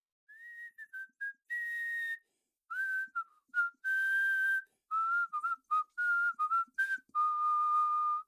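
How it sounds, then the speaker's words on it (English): A lone, clear whistled tune in short wavering phrases with gaps between them, thin and somewhat eerie against silence. "At 3:03, the whistling began, cheerful and haunting."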